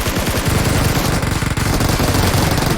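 Rapid automatic gunfire from the mobile battle royale game PUBG Mobile, a loud, dense, continuous burst of shots that fills the whole stretch with no talking over it.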